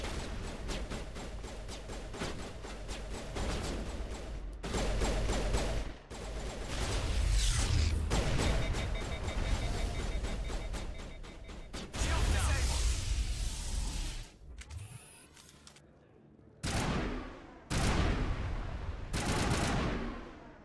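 Mass Effect shootout with dense, rapid gunfire, loud and close, coming in repeated bursts broken by brief pauses, with a voice talking over parts of it.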